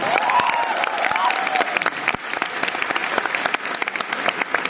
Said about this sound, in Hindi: मैं चाहता हूँ ऐसे दोस्तों के लिए एक बार जोरदार ताली बजाएं